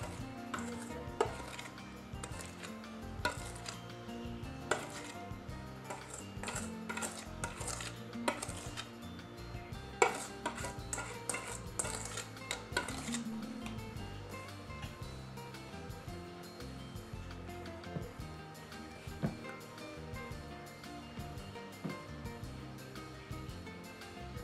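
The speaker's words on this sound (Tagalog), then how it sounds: "Ibuhos ng dahan-dahan ang basang sangkap at patuloy na paghalo ang gawin." Bibingka batter stirred in a bowl as wet ingredients are poured in: soft, repeated scraping with irregular clinks of utensil against the bowl, quiet and close, busier at first and then steadier.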